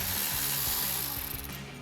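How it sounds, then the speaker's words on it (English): A ratchet removes a 12mm bolt holding the ABS and brake sensor harness on a 2024-2026 Toyota Tacoma, a fast continuous buzzing click that is close and loud for under two seconds. "remove this 12mm bolt for our ABS and our brake sensor harness"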